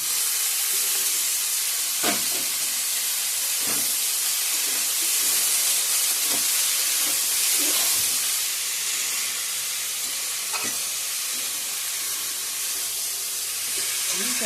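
Boiled banana flowers fry in spiced oil in a home kitchen, a steady hiss and sizzle with occasional soft clinks of a spoon stirring the pan.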